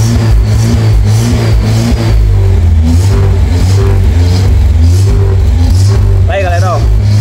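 Newly bought car revving hard inside a garage, the engine note rising and falling in repeated throttle blips over a steady rumble while people talk and shout throughout.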